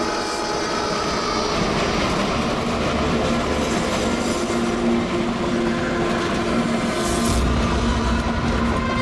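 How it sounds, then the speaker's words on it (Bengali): A train runs into a tunnel with a steady, loud rolling rumble and a dense clatter of wheels and carriages, holding on without a break and swelling slightly toward the end. "100 বছর আগে ট্রেনটা টানেলের ভিতরে ঢোকে"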